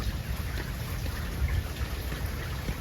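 Rain falls steadily on a backyard succulent and cactus garden, a dense even patter with no voices.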